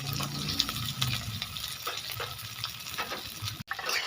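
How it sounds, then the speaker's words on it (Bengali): Cumin seeds, chopped chilli and chopped onion sizzle in hot oil in a pan, a steady close crackling fry with occasional stirring scrapes and no voices. "ওই তেলে ছেড়ে দেব জিরা, লঙ্কা কুচি, পেঁয়াজ কুচি।"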